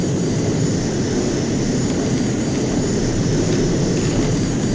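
A JAS 39C Gripen jet's engine roars in a flight simulator game, a steady, loud, broadband drone with a thin high whine that holds unchanged throughout and no talking.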